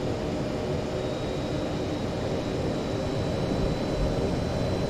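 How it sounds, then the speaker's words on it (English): A Fokker F27 turboprop in a flight simulator spools up for a full power takeoff, a steady, dense engine roar with a faint high whine running through it and no pauses. "And so it'll be a full power takeoff, just keep an eye on the TGT."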